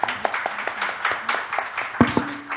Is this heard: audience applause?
yes